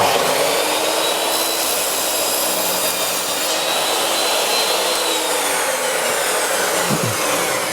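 Saw cutting through a board on a Triton WCA201 Workcentre while building a portable toolbox, a steady loud whining roar that runs unbroken for the whole stretch.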